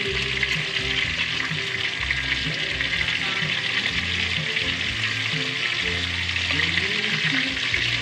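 Food sizzling and crackling steadily in a pan after being flipped, a loud continuous frying hiss with faint low clunks underneath and no voices.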